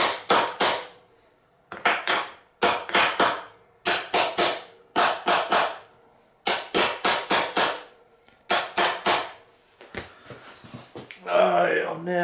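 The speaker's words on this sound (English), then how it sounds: "you can tell the difference in the tapping sound." Sharp metallic taps in quick bursts of three to five ring out close while a steering damper is fitted to a Suzuki DR650 motorcycle, separated by short pauses, with brief talk near the end.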